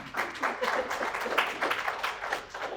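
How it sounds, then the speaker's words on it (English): Township audience at a State of the Township address clapping, a steady, dense patter of many hands sustained throughout at moderate level with no talk over it. "You can clap for that."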